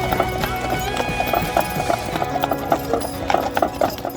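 Horse hooves clip-clop steadily on a wagon ride in Amish country, a regular trotting rhythm close by, with a brief whinny and faint voices in the background.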